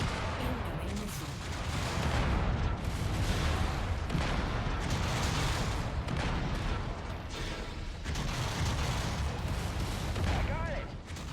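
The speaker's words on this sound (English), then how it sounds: "Incoming missile." Incoming missiles and explosions in the MechWarrior 5: Mercenaries video game: a continuous barrage of booming impacts and rumbling blasts, heavy and sustained, with voices talking over parts of it.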